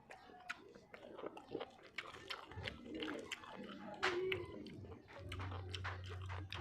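Fried bangus milkfish being chewed up close, with crisp crunchy bites and soft mastication sounds in irregular bursts, faint clinks and a low hum beneath.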